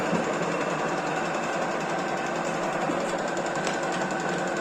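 A milling machine cuts a non-standard bolt in a workshop: a steady, dense metallic whirring and chattering that holds even and unbroken throughout.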